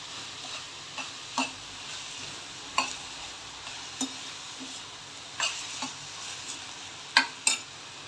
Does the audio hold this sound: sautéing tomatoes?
yes